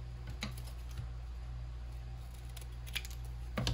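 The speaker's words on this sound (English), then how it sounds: "Let me cut just a little bit off." Scissors snip paper for a junk journal, a few short crisp cuts heard close up against a low steady background hum.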